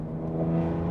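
Engine and exhaust of a BMW M3 E46 coupe giving a deep, steady droning hum over a brief moment, close and fairly loud, with no talk.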